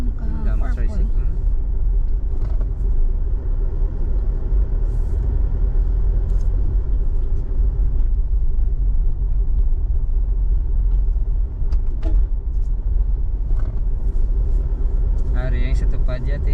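A tricycle motor rumbles in a continuous low drone, close and steady throughout, with someone talking over it and faint street sounds around.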